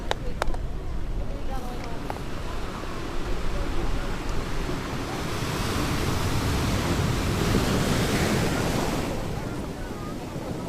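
Sea waves roll onto San Juan beach in Alicante, Spain, as a constant broad surf roar that swells slightly midway, with wind buffeting the microphone and a voice faintly talking over it.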